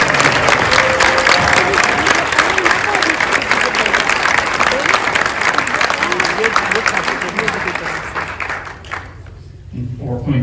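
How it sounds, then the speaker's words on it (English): Sustained applause from an audience at a school district board meeting fills most of the stretch, with dense clapping that tapers near the end as a voice begins speaking. "One more round of applause for our"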